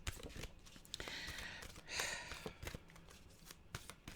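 Tarot and oracle cards being handled and shuffled close up, a run of crisp papery riffles and slaps with a brief louder swish midway, no talking.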